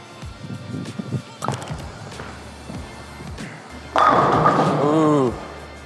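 A Hammer NU Blue urethane bowling ball rolls down the lane, a low rumbling roll with thuds, building to a loud crash of pins near the end, while a voice talks briefly.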